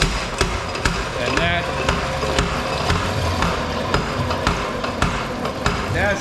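Blacksmith's power hammer striking hot metal in a New Orleans forge, a steady series of sharp, loud metallic blows repeating roughly every half second, with a person talking over the pounding.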